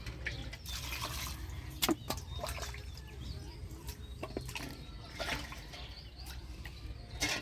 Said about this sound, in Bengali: মাছটা পরিষ্কার করে ধুয়ে নিব